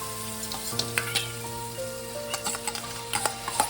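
Beaten sour yogurt going into a frying mushroom and potato curry, a steady sizzle broken by repeated clinks and scrapes of a spoon against the pan.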